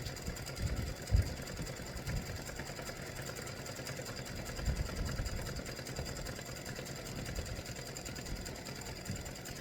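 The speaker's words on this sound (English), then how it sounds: "So I'm going to let you watch one of them being stitched out." Embroidery machine stitching out a design with variegated thread, a steady fast mechanical whir with rapid needle chatter, continuous and moderately close, with no talk.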